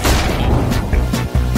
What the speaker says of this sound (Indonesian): Wow, itu ledakan besar.